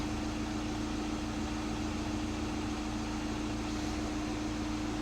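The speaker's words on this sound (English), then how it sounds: "We'll switch the aircon on, letting the engine idle." Steady low SEAT car engine idle with a constant hum and fan-like hiss of air conditioning, even and unbroken throughout, no voices.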